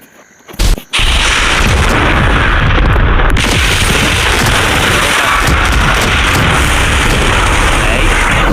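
Explosions from a movie trailer for Toxic burst in after a brief quiet start, giving way to a loud, sustained roar of blasts and booming gunfire.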